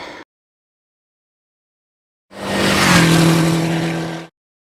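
A Triumph Tiger 900 GT Pro motorcycle pulls away in the rain, its engine rising in a loud, close two-second surge of revving after near silence, then cutting off abruptly.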